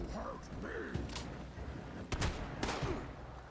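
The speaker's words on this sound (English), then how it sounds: "take a 12 gauge right to the face" A 12 gauge shotgun fired at a mutant in Fallout 76, with a few sharp broadband blasts standing out over game sounds and voice chatter.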